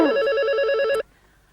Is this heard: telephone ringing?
yes